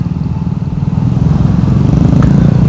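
Motorcycle accelerating on a city road, a loud, close engine rumble that rises in strength after the first second and holds steady to the end.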